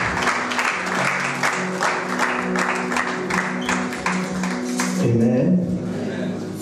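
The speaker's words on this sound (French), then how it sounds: "Est-ce qu'on va acclamer là?" A church congregation applauds together, with steady dense clapping that carries for several seconds and then gives way to a voice and a low tone toward the end.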